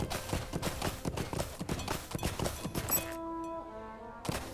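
Horse hooves clip-clop in a steady walking rhythm in Lord of the Rings Online, crisp and fairly close, then give way to sustained musical tones as the footfalls stop.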